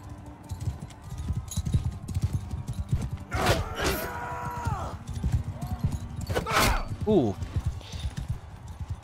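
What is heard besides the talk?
horse hooves galloping in Mount and Blade 2 Bannerlord video game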